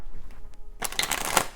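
Oracle cards being shuffled, a quiet lead-in followed by a close burst of rapid riffling and flicking in the last second, with no talk.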